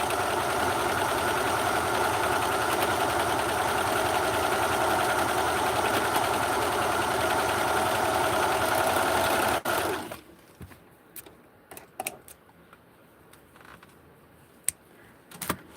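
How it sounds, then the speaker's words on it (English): A serger stitches a pink doll blouse, its rapid motor hum running loud and steady for about ten seconds before stopping, followed by a few sparse clicks and handling sounds. "So I'm going to serger this right now and make it an official blouse."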